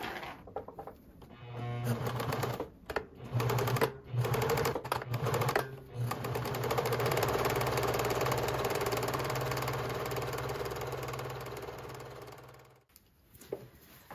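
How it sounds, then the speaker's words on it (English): A sewing machine stitches the sides of a fabric bread bag, running in short start-stop bursts and then one long continuous run. The machine hum and rapid needle clatter sound close and clear, with no talking. "I will sew these two sides together, and I will sew just about right here and then go back and forth a little bit"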